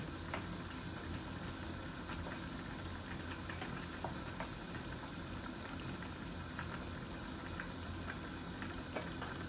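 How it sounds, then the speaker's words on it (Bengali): A pot of rohu fish curry with lau leaves comes to the boil, a steady broadband bubbling hiss that holds even throughout with faint small pops and no talking. "এই যে বলক এসে গেছে, মাছগুলা হোক আস্তে আস্তে।"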